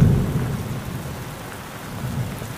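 Heavy rain pours steadily across open wilderness where lion cubs shelter, with low rumbling thunder loudest at the start and no voices.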